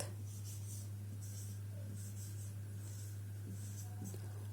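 Handwriting on paper during a Bengali writing lesson: faint scratchy pen strokes in short bursts over a steady low hum, with no voices.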